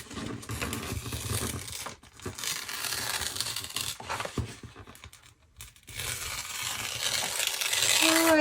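A paper page torn from a monthly planner, close crinkling and ripping in several bursts with short pauses between them, and no talking.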